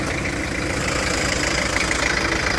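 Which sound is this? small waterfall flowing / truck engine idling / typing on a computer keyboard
truck engine idling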